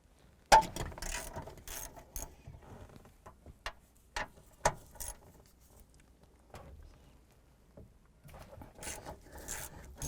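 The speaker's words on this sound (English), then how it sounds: "Using our 14mm socket and extension, I'm going to go ahead and remove the two nuts up top here." A ratchet with a 14mm socket and extension loosening the upper strut nuts on a 2008-2012 Honda Accord, heard as sparse, close clicks and scrapes, irregular bursts separated by quiet gaps.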